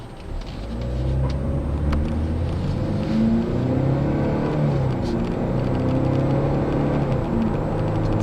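The 4-cylinder EcoBoost engine of a 2013 Ford Taurus hums and rises in pitch as it accelerates from inside the cabin, a steady muted drone with tire and road noise.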